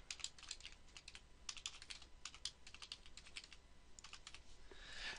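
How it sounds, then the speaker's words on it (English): Names being typed on a computer keyboard into a OneNote page: quiet, close keystrokes in quick irregular bursts over faint background hiss. "I'm going to go ahead and just type in some names here."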